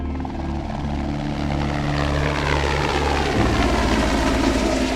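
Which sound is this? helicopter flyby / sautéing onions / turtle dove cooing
helicopter flyby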